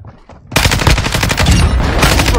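Rapid automatic gunfire from the player's own weapon in a shooter video game, starting abruptly after a quiet moment and continuing as a loud, close, sustained burst.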